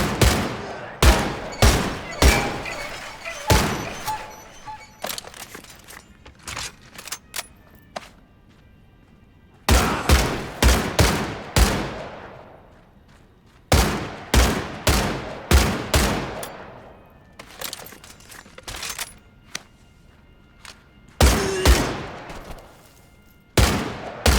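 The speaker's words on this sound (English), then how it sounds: "Every shot with the K98K is perfectly accurate when you hold it two-handed." Sharp K98K bolt-action rifle shots ring out in a World War II shooter game, loud single cracks fired in quick bursts of several with decaying echoes, separated by pauses and softer mechanical clicks.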